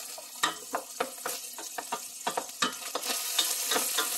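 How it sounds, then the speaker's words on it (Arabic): Tomato paste and onion frying in a pan while being stirred, giving a steady loud sizzle broken by repeated scraping, clattering stirs, with no voices. "نقلب الصلصة مع البصلة كده"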